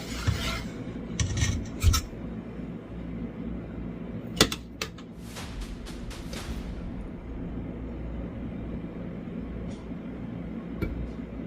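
Knife cutting rendered beef tallow out of a bowl, with a close scraping and rasping texture, a few sharp clicks early on, and a steady low background hum throughout, no talk.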